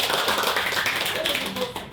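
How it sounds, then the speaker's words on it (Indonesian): A classroom claps during a lesson, with a blurred, continuous wash of many hands mixed with voices talking over it. "tepuk tangan untuk Nadira"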